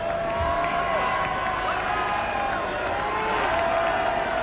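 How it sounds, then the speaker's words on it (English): A large crowd at an NFL football game in a San Francisco stadium sends up a steady, dense roar of cheering under a broadcaster's voice. "Happy crowd tonight in San Francisco."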